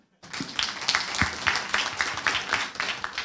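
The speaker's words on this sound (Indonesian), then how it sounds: "Tepuk tangan." Audience applause at an Indonesian conference welcoming an official, clapping that starts abruptly after a brief silence and continues at moderate level with distinct individual claps.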